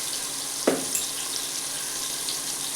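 Soya chunks with turmeric and salt fry in a pan with a continuous bright sizzling hiss, broken by one quick clack as they are stirred.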